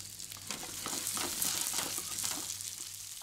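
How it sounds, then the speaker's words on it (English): Prawns with crushed, browning garlic sizzle and crackle steadily in hot oil in a non-stick pan, a dense close frying hiss with small pops and stirring. "you can add your prawns to the heat one by one"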